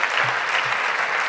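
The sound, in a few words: conference audience applause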